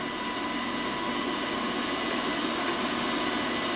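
An electric hand mixer whirs steadily as it beats banana bread batter with vanilla, a constant close, even motor drone that holds unchanged from start to finish with no one talking.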